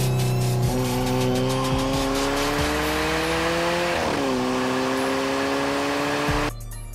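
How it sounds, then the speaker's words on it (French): A 2014 Alfa Romeo 4C with a Racing exhaust and turbo pulls hard and loud, its engine note rising steadily through a gear with a brief dip partway, then cutting off abruptly near the end. "associée à l'échappement Racing est un régal pour les oreilles. Ajoutez-y les sifflements du turbo et de la soupape de décharge."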